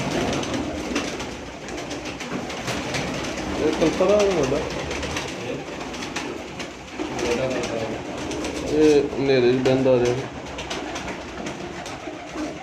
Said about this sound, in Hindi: परवाजी कबूतर है